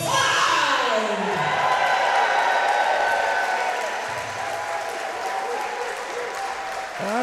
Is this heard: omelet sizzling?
no